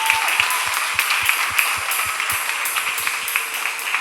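A church congregation claps in a steady, even rhythm of sharp beats, each with a bright ringing edge, keeping time for several seconds with no talk.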